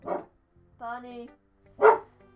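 A pet dog barks in short bursts indoors, a few sharp woofs spaced apart over a quiet background, fairly close and loud.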